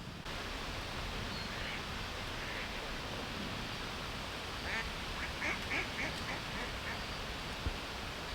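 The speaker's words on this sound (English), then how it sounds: "It's not the most exciting duck in the world." A duck, likely a female mallard, gives a few faint, scattered quacks from a distance in the second half, set against steady broadband outdoor noise.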